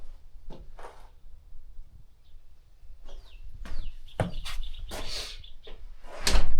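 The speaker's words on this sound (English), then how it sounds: "The door closes." A chicken coop door is moved and shut, with a few knocks and rattling clunks, ending in a louder thud nearby.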